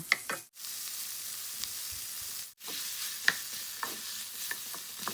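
Pork belly coated in red curry paste sizzles in a pan over fairly high heat, a steady close hiss with scattered spatula scrapes and clicks, briefly dropping out twice.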